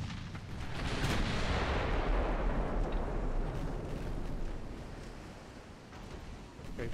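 Battleship naval gunfire in Ultimate Admiral Dreadnoughts, a heavy booming salvo blast that rolls into a long, loud rumbling roar and slowly fades, with a few sharper reports near the end and no talk.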